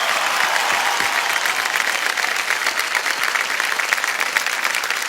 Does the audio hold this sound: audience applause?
yes